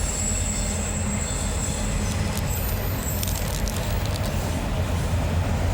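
Freight train hauling loaded auto racks rolls past at night, a steady broadband rumble of wheels and cars filling the whole stretch, with faint high squeals flickering midway through.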